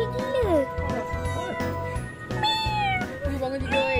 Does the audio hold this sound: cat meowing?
yes